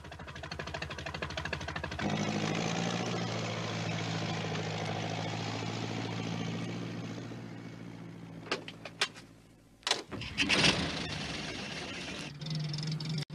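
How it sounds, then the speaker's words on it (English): A tractor engine chugs steadily at a constant, fairly close level for several seconds, then fades out and gives way to a few knocks and clunks. "It was Alf Thompson on his tractor"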